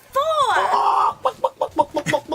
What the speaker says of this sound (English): These chickens are so cheeky.